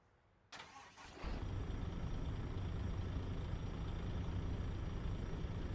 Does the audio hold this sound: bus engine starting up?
yes